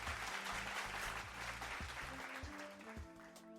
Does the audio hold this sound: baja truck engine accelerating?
no